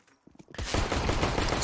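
Dense automatic gunfire erupts after a brief quiet lead-in and rattles on continuously and loudly, from a competitive esports match between Eternal Fire and Enterprise at the Pinnacle Winter Series.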